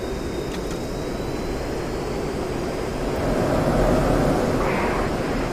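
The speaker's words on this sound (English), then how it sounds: "that grrsh in sound when we get the high alpha, especially at slow speed" A JF-17 Thunder jet in the DCS flight simulator gives off a steady, rough rumbling roar with a gritty buffeting texture at high angle of attack and slow speed, swelling slightly louder toward the end.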